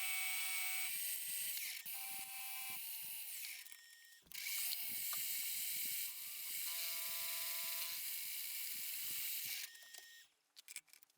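An end mill on a milling machine cleans up a cut in aluminium, giving a sustained high metallic whine with ticking chatter; it breaks off briefly near the middle and stops toward the end.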